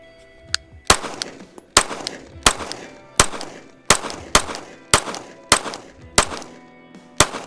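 Canik TP9DA polymer pistol firing Blazer rounds at a range, about ten sharp close shots at an uneven, moderately quick pace, each cracking loudly and ringing out briefly, no talk.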